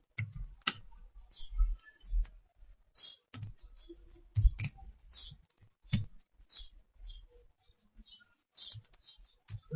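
Sharp, scattered clicks from a computer mouse and keyboard while moving through a software dialog to import a GitHub repository; close and isolated against near silence, with no talking.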